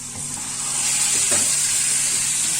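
A meat roll, a two-meat roulé for a tagine, sizzles and hisses steadily in a hot frying pan, loud and close, with a few soft clinks of handling.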